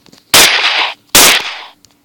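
Two sharp, loud sniper rifle gunshots in Garry's Mod, each a sudden broadband crack with a short ringing tail, spaced about a second apart and heard alone without talk.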